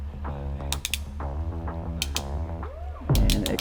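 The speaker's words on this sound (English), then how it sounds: "That does take a special tool, which mine is a ratcheting style." A ratcheting crimping tool clicks shut on a wire terminal and seal from a 1964 Jeep CJ-6, giving a close series of sharp ratchet clicks that ends in a louder final clack.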